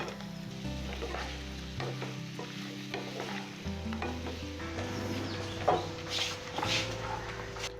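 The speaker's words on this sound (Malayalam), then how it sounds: "അടുത്ത നമ്മുടെ ലോലിപോപ്പ് ഇതിനകത്തോട്ടിട്ടൊന്ന് ഇളക്കി ഇഞ്ഞെടുക്കുക." Chicken lollipops are stirred through a coating in a pan, giving soft sizzling and intermittent scraping strokes over a low steady hum, fairly faint.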